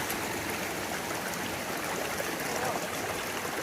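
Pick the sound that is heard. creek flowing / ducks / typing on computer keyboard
creek flowing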